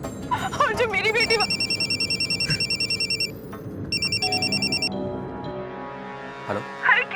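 A telephone rings in repeated electronic bursts, loud and close, with a pause between rings; background noise and a faint voice at the end.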